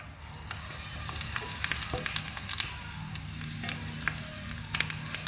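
Quiet, steady sizzling of coconut frying in a pan for a chaya (tree spinach) thoran, with scattered crackles and pops and a faint stirring sound, no voices.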